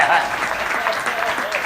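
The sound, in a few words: audience applause at a comedy poetry gathering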